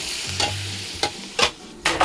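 Vegetables and a splash of broth hitting a hot pan of stir-fried shrimp, a steady close sizzle punctuated by several sharp bursts of splashing and clatter at irregular intervals, with no voices.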